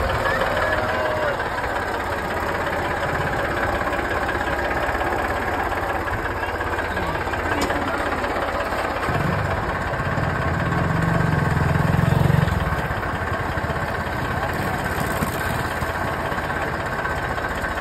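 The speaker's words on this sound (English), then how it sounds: "So we are going on a tractor ride on this bad boy." A tractor engine runs at idle in an Indian village, a steady low chugging throughout with a louder, heavier stretch near the middle, while people talk intermittently over it.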